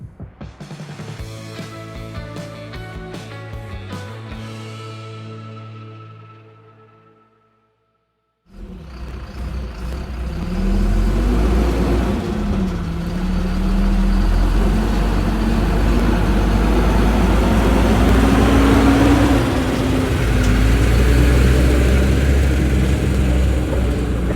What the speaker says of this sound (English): Let's get the truck fired up. We'll get the air pressure built up, get it nice and warmed up